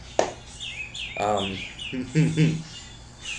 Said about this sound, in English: oh, the birds are killing me